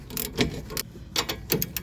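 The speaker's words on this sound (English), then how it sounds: "I'm going to hold the flat on the back so we can tighten this down." A wrench tightens a new 18mm sway bar link nut on a 2012-2017 Toyota Camry front suspension, giving quick clicking ratchet-like ticks in short bursts, close and moderately loud over faint background noise.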